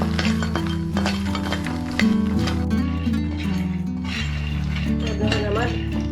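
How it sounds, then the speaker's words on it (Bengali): Makhana (fox nuts) fry in ghee in a pan, with repeated metallic clinks and scrapes of a utensil against the pan over a steady sizzle. Music plays underneath. "এটার মাঝে আমি মাখানা ভাজা করব।"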